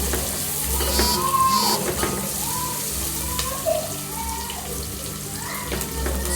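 Garlic fries with onions in a pan, giving a continuous close sizzle with occasional stirring scrapes and a steady low hum behind it.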